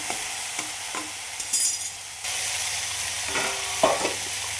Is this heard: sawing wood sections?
no